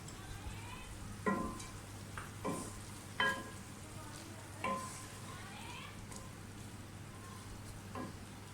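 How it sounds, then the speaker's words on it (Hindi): Minced meat (keema) fries with onions in a pan, giving a steady close sizzle with several distinct scraping stir strokes spaced a second or two apart and a low hum underneath. "कीमा हमारा जो है वो भून रहा है। अब आप इसमें प्याज डाल दें।"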